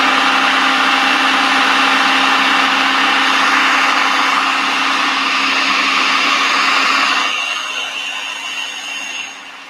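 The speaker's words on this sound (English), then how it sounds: "I make homemade almond butter at home, either using my food processor or my high-powered blender." A high-powered blender whirs loudly and steadily while grinding almonds into homemade nut butter, a dense motor roar that runs for several seconds before winding down and trailing off near the end.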